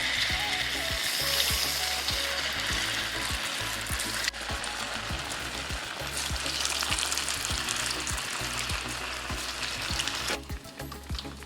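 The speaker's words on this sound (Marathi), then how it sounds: "आणि तुपात आपण या बिट्ट्या तळून घेऊ." Corn bitti frying in ghee, a steady sizzle and crackle with repeated scraping and stirring clicks, two brief dips in the texture.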